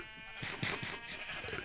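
A sheep in the Minecraft video game bleats in a short wavering cry, close and clear, repeated in quick pulses over about a second.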